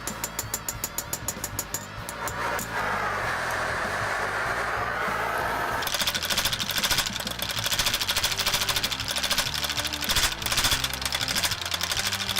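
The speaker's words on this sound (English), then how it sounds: "So this hammer's doing exactly what I'm doing here, just faster." A large old 1936 power hammer pounds metal in fast, steady repeated blows, loud and continuous with clanking machine rhythm throughout.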